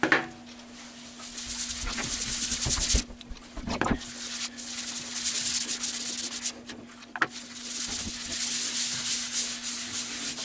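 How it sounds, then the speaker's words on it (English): Abrasive Yorkshire grit paste is rubbed by hand over a Hawaiian almond wood calabash bowl, a steady dry scrubbing that pauses briefly a few times over a constant low machine hum. "So now I'm going to go ahead and put the Yorkshire grit on, and that's going to do its job."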